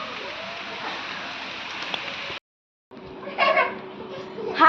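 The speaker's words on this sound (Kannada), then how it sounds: "ಬಟ್ ಎಂತ ಮಾಡೋದು, ಮಳೆ ಬರ್ತಾ ಇದೆ." Steady rain falls near Ranganathittu Bird Sanctuary as visitors head toward the parking area, a continuous patter that cuts out briefly and then resumes with louder bursts and some voices nearby.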